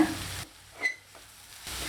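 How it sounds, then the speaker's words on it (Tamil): Soft sizzling of grated raw banana frying in a pan over medium flame, with a brief scraping stir in the middle, quiet and close, no voices. "இப்போ துருவி வச்சுருக்கிற வாழைக்காயை சேர்த்து மீடியம் ஃப்ளேமில் நல்லா காந்து விட்டுக்கலாங்க"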